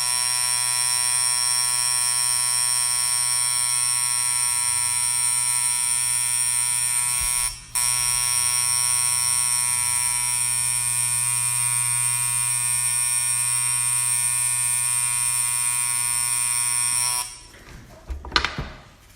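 A tattoo machine runs on practice skin, a loud steady electric buzz that holds for about seventeen seconds with one brief dropout, then stops amid a few handling knocks.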